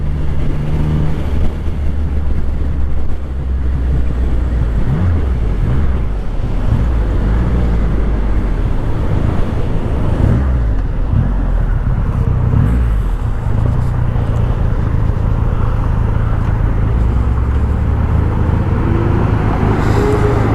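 A Triumph Rocket III motorcycle rides along the road, its steady low engine drone buried under constant heavy wind rush for the whole stretch, with no talking.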